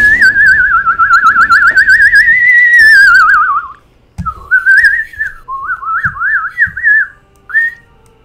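A person whistles bird-like warbling melodies, a long wavering phrase followed by shorter trilling bursts, loud and close with no talking.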